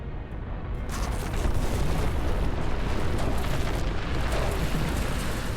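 A volcanic eruption sound effect, a sustained loud broadband roar and rumble that starts abruptly after a brief quieter moment and holds steady with heavy low-end energy throughout.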